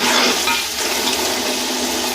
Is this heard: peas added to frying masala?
yes